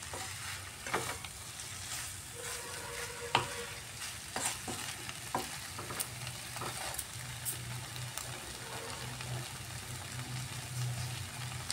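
An omelette sautés with spices in a pan for an egg omelette curry, giving a steady close sizzle broken by repeated scraping and tapping of a spatula against the pan.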